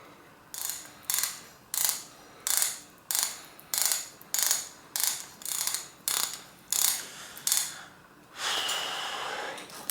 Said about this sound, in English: using my homemade RST little tool here, I'll start screwing this in.